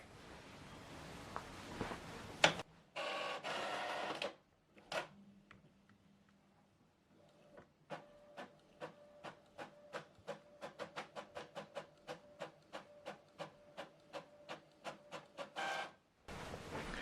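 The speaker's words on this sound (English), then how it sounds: "Preparing to print reverse side of the document." An Epson ET-3850 inkjet printer works through a double-sided document: a burst of mechanical whirring, a pause, then a long run of regular rapid clicks and ticks from the print head, ending in another motor whir, close and clear.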